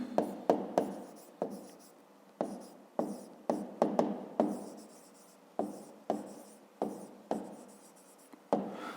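A pen or chalk writes by hand, quiet and close, in a steady series of short scratchy strokes and taps spread through the whole stretch, with no talk.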